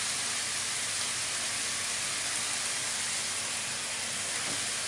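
Onion and beef sirloin sizzle steadily in a pan, a dense, even hiss that stays close and constant throughout, with no voices over it.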